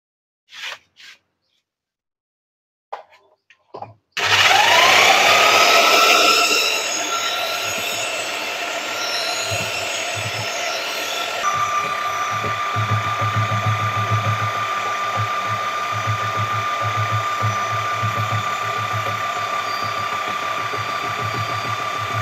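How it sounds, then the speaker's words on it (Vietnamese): A fertilizer mixing machine stirs fish fertilizer, starting abruptly after a few faint knocks and settling into a loud continuous mechanical hum and whir with a steady tonal whine, running alone for the rest of the time. "Còn đây chính là cái máy đảo trộn phân của mình, khuấy đảo."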